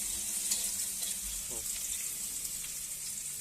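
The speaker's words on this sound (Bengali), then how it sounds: "তো মটরশুঁটিগুলো তেলে দিয়েছে" Green peas frying in hot oil in a home kitchen while vegetable chow mein is made, giving a steady, even sizzling hiss that runs throughout with no pauses.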